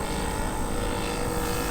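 A quarter-scale Balsa USA Sopwith Pup model airplane drones steadily overhead, its engine and propeller making a continuous buzzing roar at moderate distance with no speech.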